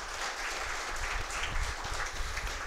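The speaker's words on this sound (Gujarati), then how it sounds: "આપણે જોરદાર તાળીથી વધાવીએ." Audience at a naming ceremony held by a prayer association in Surat gives a round of applause, steady dense clapping from a crowd heard throughout the short stretch without talk.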